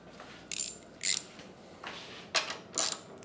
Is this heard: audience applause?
no